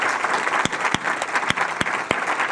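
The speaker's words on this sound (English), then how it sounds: "Can we give her a round of applause?" A seated audience at an education leadership event claps warmly for a newly recognized board member, steady applause throughout with a few sharp, louder claps standing out nearby.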